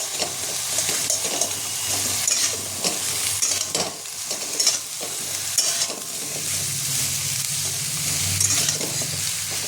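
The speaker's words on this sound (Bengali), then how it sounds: "এটা আমি এবার হালকা সাঁতলে নেব।" Vegetables and spices for a Bengali-style shukto with dhulo shak and prawns sizzle and crackle in a pan at close range, with a steady frying hiss broken by scraping stirs from a spatula.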